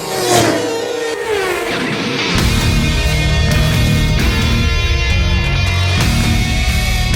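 Race cars at a racing event, loud engines roaring and revving with rising pitch sweeps as they pass, a dense, sustained motor drone that thickens partway through, no talking.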